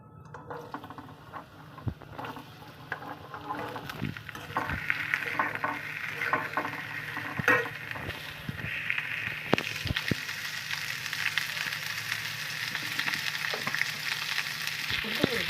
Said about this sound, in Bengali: এই আলু আর বরবটিটা ভেজে নিচ্ছি